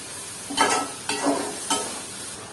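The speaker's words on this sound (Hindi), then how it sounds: "बस हमने इसको इतना फ्राई करना है कि हमारे टमाटर इसमें गल जाए" Masala with tomatoes frying in a pan for bhindi salan, a soft steady sizzle broken by three separate scraping stirs spaced about half a second apart, close and moderately quiet.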